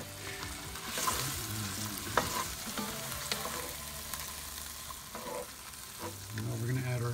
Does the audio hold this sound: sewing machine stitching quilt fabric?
no